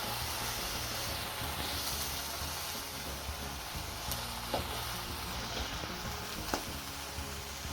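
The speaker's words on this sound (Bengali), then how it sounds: "মশলা পেঁয়াজ সব দিয়ে দিই" Spices and onions frying with rice in a pot, a steady close sizzle and crackle with a few brief scraping stir sounds, no voices.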